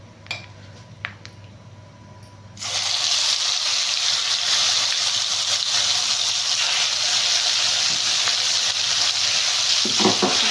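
Ginger garlic paste hits hot oil for chicken pickle, bursting into a loud, steady close sizzle after a few quiet seconds of light stirring clinks, with no talk.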